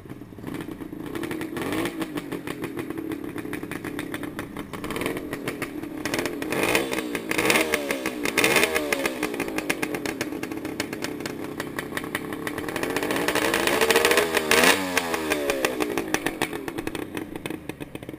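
A 1974 Suzuki GT750 two-stroke triple motorcycle with electric start, 15,000 miles, runs steadily close by, its buzzy idle rising in a few throttle blips, with no talking.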